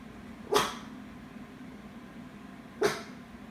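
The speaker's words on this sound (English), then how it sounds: "He's been barking at that spot" A dog gives two short, sharp barks about two seconds apart, fairly close, over a quiet room background.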